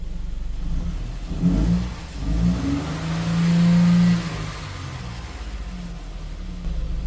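A 2009 car engine idling rough with a misfire, a low uneven rumble that swells into a couple of revs before settling back to a lumpy idle, close by.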